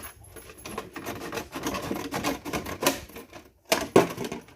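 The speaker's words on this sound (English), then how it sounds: "So I'm going to get right there, and I'm just going to cut all the way around." A plastic milk jug being cut around its body, close rapid snipping and crunching clicks in uneven bursts with brief pauses, no talking.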